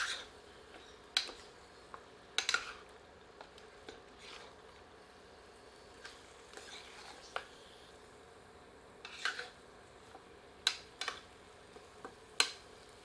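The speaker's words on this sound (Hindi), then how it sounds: "इन्हें मसालों के साथ अच्छी तरह मिलाते हैं।" Kadaknath black chicken pieces stirred with spices in a pan, a faint low sizzle under sparse scraping clicks and ladle knocks spaced irregularly.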